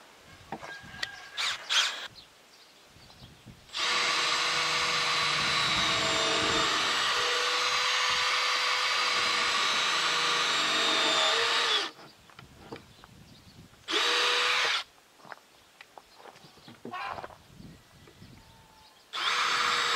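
A power drill bores pilot holes into hard red oak in long loud whining bursts, one running about eight seconds and a shorter one later, with quiet gaps and faint bird chirps between.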